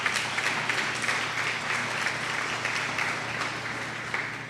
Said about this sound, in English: Yeah, I think that deserves a round of applause.